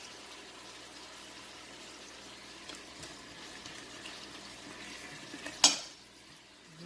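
A wooden spoon stirs meat and a whole can of tomato paste in a pot for homemade pasta sauce, giving a steady low scraping and sizzling texture with a sharp clack near the end.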